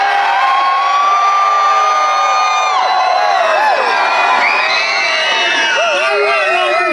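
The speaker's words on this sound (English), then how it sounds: "I want to see if we can cheer louder than on the west side." A loud crowd of adults and children cheers and whoops at an outdoor CP Holiday Train event, shrill voices and rising yells sustained throughout.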